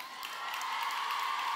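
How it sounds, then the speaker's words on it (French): An audience at a Paris beauty event applauds and cheers, a dense wash of clapping and scattered shouts that holds steady and fairly loud throughout. "on peut l'applaudir bien fort"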